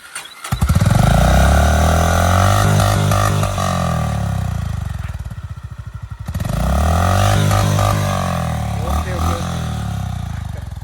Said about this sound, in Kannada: ಆ್ಯಂಡ್ ಬ್ರೋ ಎಕ್ಸಾಸ್ಟ್ ನೋಡ್ ಬ್ರೋ. ಸ್ಟಾರ್ಟ್ ಮಾಡಿ ಬ್ರೋ, ನೋಡೋಣ ಹೇಗಿದೆ ಈಗ.